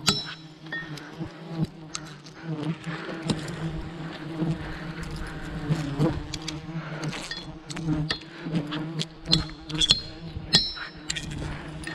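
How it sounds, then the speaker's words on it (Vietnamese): A swarm of wild honey bees around a nest high in an old banyan tree buzzes loud and close, the drone swelling and fading as bees pass, with scattered clinks and taps in between. "ong xuống khá là đông rồi."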